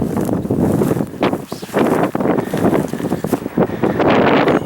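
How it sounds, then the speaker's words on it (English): Strong wind buffets the microphone on a high mesa hilltop near the New Mexico border, roaring in loud, continuous gusts with brief lulls and no voices. "Oh, it's windy up here."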